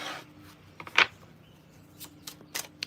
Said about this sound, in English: I'm going to stop shuffling because cards are going to keep falling